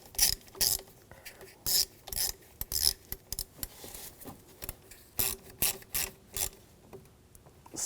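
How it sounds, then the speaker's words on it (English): A ratchet tightens a bracket screw on a 2007-2013 BMW X5 3.0L inline-six during crankshaft position sensor replacement, giving close, crisp bursts of clicking with short pauses between strokes. "Get that lined up and then tighten that screw down."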